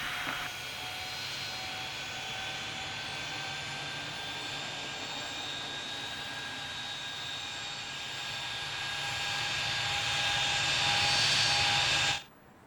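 An airliner taxiing at Salt Lake City in the game Tower Simulator 3, a steady jet engine whine with high tonal hums that swells louder toward the end before cutting off abruptly.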